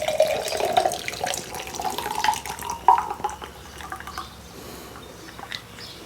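Chocolate liqueur pours into a glass over ice cubes, a steady close trickle and splash for about three seconds that then tapers into quieter drips and faint clinks.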